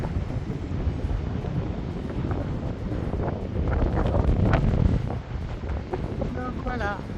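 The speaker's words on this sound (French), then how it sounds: "Il y a du vent, bord de mer." Gusty seaside wind in Normandy rumbles against the microphone, swelling and easing in waves, with faint bits of talk toward the end.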